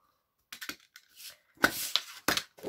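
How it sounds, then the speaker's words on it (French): A few short scraping cuts of a craft knife slicing through paper along a ruler, quiet and close, separated by brief pauses. "on va venir prendre un cutter et on va venir couper sur toute cette ligne"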